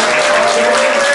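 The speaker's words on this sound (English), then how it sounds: "Let me tell y'all, everybody, applaud her." Dense applause from an audience honoring a woman at a gathering, a loud continuous wash of clapping with a sustained tone running underneath.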